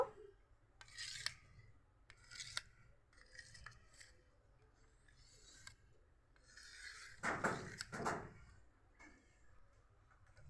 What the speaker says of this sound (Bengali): একটা ছুরি নিয়েছি ছুরি দিয়ে কেটে নিব এভাবে ছোট ছোট পিস করে কেটে নিব